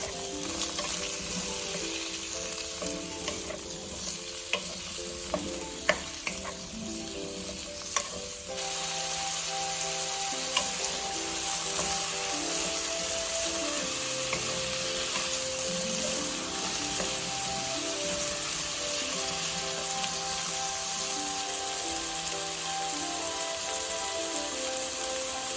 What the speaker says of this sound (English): Place the potatoes into the pan and stir fry them until you see them become transparent.